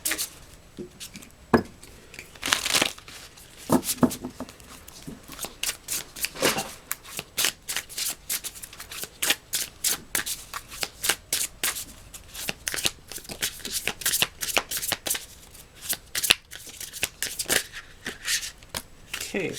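Tarot cards are shuffled again and again in quick, papery riffles and slaps, close and fairly loud, with short pauses between bursts and a voice talking now and then.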